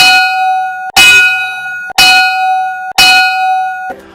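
Four evenly spaced bright bell dings ring out one after another, each a sharp metallic strike with a sustained shimmering tone that is cut off just before the next, loud and close with no talking.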